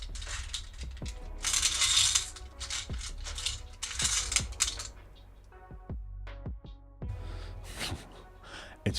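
Rune stones are shuffled during a live rune reading, a close, fairly loud run of clattering, clicking knocks and rattles with irregular rhythm and brief pauses, with no talk.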